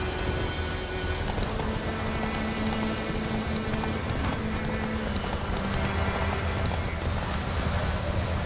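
Roach the horse galloping in The Witcher 3, a steady unbroken run of hoofbeats that stays loud and close throughout, with a dense, constant wash of background sound beneath it.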